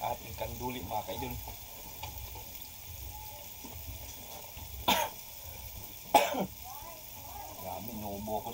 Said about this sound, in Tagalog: inuubo ko sa anghang